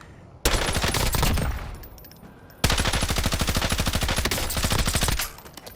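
A weapon with an extended magazine and buffer spring fire mod fires in a Call of Duty firing range, two long bursts of rapid, loud automatic fire separated by a short pause.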